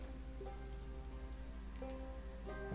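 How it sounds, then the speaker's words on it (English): Rain falls in the Stoneshard video game, a steady, faint patter spread evenly throughout, with soft tonal game music underneath. "It's sleeping, it's raining."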